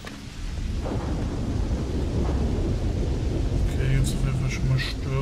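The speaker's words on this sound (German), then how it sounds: "Schon mal Stürme." A thunderstorm in the video game Starfield: deep rolling thunder over steady heavy rain and wind, loud and continuous, with a faint voice mixed underneath.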